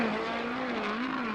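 A USAC sprint car roars around Arizona Speedway, its engine holding a steady high-pitched drone with slight pitch swells as it circles the track at a distance.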